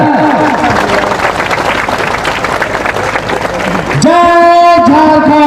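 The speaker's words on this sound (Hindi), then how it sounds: "ये जोरदार ताली रुकनी नहीं चाहिए।" Loud applause rolls through a political rally crowd for Jairam Mahto in Kolhan: dense, sustained clapping and crowd noise for about four seconds, then it gives way to a steady amplified tone.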